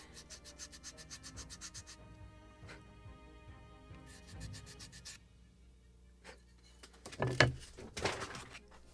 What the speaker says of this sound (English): More beveling on this side.